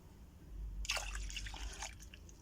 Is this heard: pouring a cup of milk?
yes